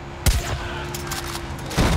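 A sharp, loud gunshot bursts out in the video game Far Cry 5, followed by a rumbling echo, then a second blast near the end, set against constant background game noise.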